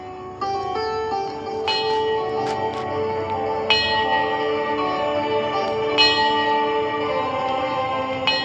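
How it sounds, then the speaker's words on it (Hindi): A holy gurukul bell rings with several struck tones that ring on and overlap, loud and reverberant, layered over a sustained musical backdrop with no talk. "ये पवित्र घंटी बता रही है कि शिखर गुरुकुल की सभा शुरू होने में कुछ ही क्षण बचे हैं।"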